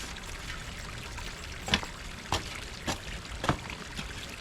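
Water pours and trickles steadily into a newly dug small backyard pond, with several brief louder splashes breaking through the continuous running flow.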